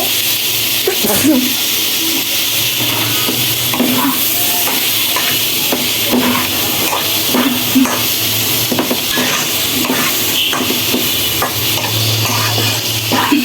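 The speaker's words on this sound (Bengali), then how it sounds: "এখন আমি দিয়ে দিব চিংড়ি মাছটা এটার সাথে ভেজে নেব।" Prawns fry in a pan with potato, onion, ginger garlic paste, cumin, turmeric, chili and coriander powder, a loud close sizzle broken by repeated scraping stirs and utensil clinks, with some talk.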